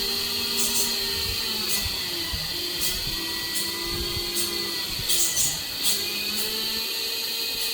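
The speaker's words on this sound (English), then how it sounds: "Be seen that the overall hydraulic system operates very stably and smoothly." Hydraulic pump and actuators of a SFROG 1/14 E400 scale model excavator running, a continuous whining electric-hydraulic drone with periodic rising strains and faint clicks as the arm moves, close and steady throughout.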